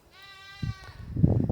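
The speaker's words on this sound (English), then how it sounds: "Goats are in heat again. Everybody's whining." A goat in heat gives one drawn-out, wavering bleat, followed by rustling and faint farmyard noise.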